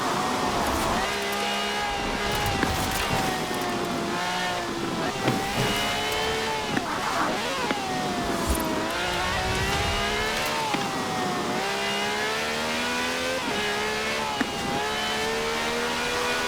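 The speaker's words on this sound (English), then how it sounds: "This has a V12 with over 750 horsepower, plus bucket seats." A V12 engine with over 750 horsepower in a widebody cab in Forza Horizon 4 revs and shifts loudly and continuously, with rising and falling pitch through repeated gear changes.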